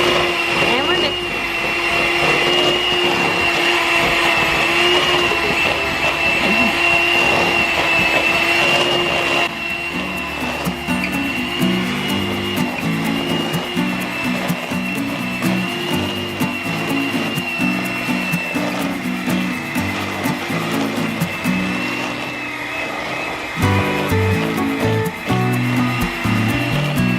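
An electric mixer beats butter and two sugars into cookie dough, a loud continuous motor whine that shifts pitch as it runs, with people talking over it now and then.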